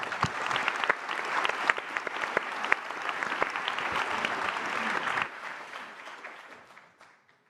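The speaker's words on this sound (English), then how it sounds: "Please join me in a round of applause." Audience applause for panelists at a climate summit in New York: dense, steady clapping from a sizable crowd for about five seconds, then fading out quickly to quiet.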